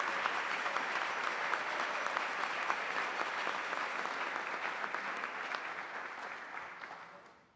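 Scholarship winners at a 2014 award ceremony receive steady audience applause, many hands clapping in a soft, distant-sounding continuous patter that gradually fades out.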